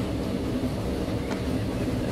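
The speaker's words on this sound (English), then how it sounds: "Let's ride the train." A video-game train rolls along at sped-up pace, giving a steady, dense rumble of wheels and carriage noise that fills the clip without any talk.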